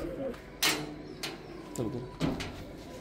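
Pigeons in a loft coo softly at close range, their low rolling calls mixed with a few sharp knocks and a sliding door or latch sound; faint background murmur.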